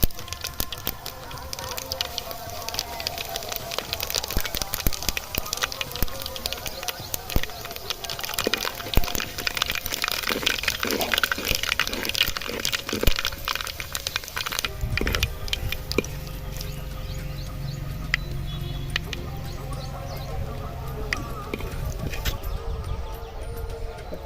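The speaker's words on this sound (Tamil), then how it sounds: "கடுகு பொரிஞ்சிருச்சுங்க" Mustard seeds and cumin spluttering in hot oil for a fish curry, a dense continuous crackle of rapid tiny pops, close by, with a low rumble joining partway.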